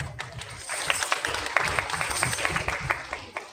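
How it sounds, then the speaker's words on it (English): Audience applause at a school cultural program after an energetic first-standard performance, a steady patter of clapping with some low background rumble, moderately loud throughout. "Let's give a big round of applause."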